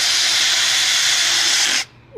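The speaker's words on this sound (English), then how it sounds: "I'm also using this auger right here attached to a drill." An auger bit driven by a power drill churns into garden soil, a loud steady whirring hiss that runs continuously, then cuts off abruptly near the end.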